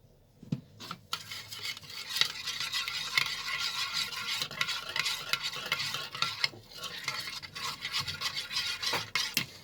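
A spoon stirs a mixture of egg, sugar and cardamom powder in a bowl, giving continuous scraping and swishing with a few sharper knocks against the bowl, close and fairly quiet.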